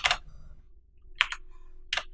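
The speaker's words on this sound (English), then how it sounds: "You just literally just type in Y when that comes up and click enter" Three separate keystrokes on a computer keyboard, typing Y and hitting Enter during a Windows setup, each a short crisp click spaced apart in a quiet room.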